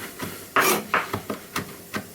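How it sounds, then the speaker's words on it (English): Knife chopping herbs on a cutting board for stuffed marrow, a series of irregular woody taps and knocks, close by, with quieter scraping between strikes. "You've just got to keep chopping it up, keep bringing it back into the middle, and go over it again and again."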